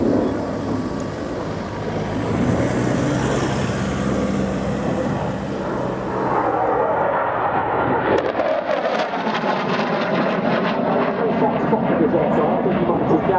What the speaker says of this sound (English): a very high-speed pass coming up now, so stand by for a wee bit of noise